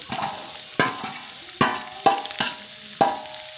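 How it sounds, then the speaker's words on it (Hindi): Cauliflower frying in half a cup of oil, with about 1 kg of it in the pan; a low sizzle broken by five or six distinct scraping stir strokes, each a sharp rasp that fades, heard alone. "जब तक ये गोल्डन ना हो जाए तब तक मैं फ्राई करूँगी इसको"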